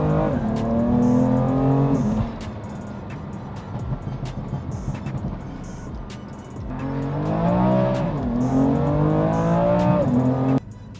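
A BMW M2 G87 engine revs hard while driving, with two loud rising acceleration pulls separated by a quieter stretch of road and tire noise, heard close from inside the car.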